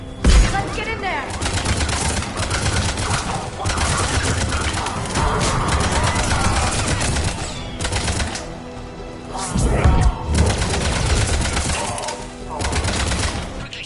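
Sustained gunfire at a Cerberus checkpoint in the Mass Effect 3 video game, a near-continuous clatter of automatic weapons and heavy shots across the whole stretch, loud and dense with brief surges, mixed with game voices.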